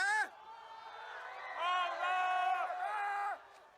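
A crowd inside a large Viking-ship-shaped hall at a big LAN party shouts a single name in unison, a long drawn-out collective bellow that swells, briefly dips and swells again before cutting off; loud and reverberant.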